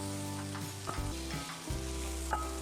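Garlic cloves dropped into hot oil for Kolhapuri mutton sizzle and crackle steadily, with a few brief stirring scrapes and pops over a continuous frying hiss.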